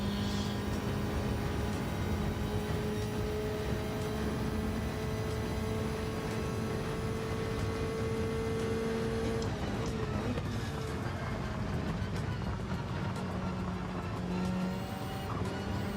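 Race car engines in the Gran Turismo 7 racing game drone in a steady, high-pitched whine that shifts in tone partway through, then carries on as a continuous hum with no voices.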